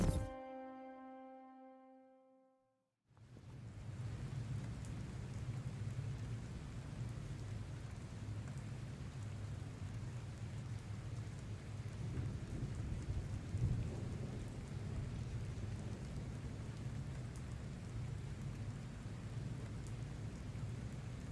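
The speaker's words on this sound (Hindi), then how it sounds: "गेम की आवाज़ तो आ रही होगी बरसात की।" Steady, dense rain hisses with a low rumbling undertone of thunder in the Gotham Knights video game, continuous and fairly soft after a short musical tone at the start.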